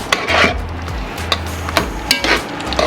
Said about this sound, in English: Make that stir up in there now.